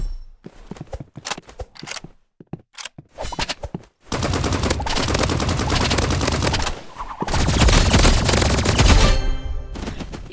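Rapid video-game gunfire from an E-pistol in a first-person shooter: scattered single shots and short bursts, then several seconds of dense, loud, continuous firing with crashing impacts, no talking.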